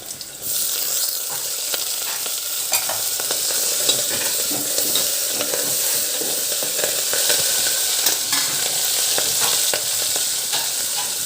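Onion, dried red chillies and curry leaves fry in hot oil for a dal tempering, a close, continuous sizzle and crackle with the faint scrape of stirring, steady from start to finish.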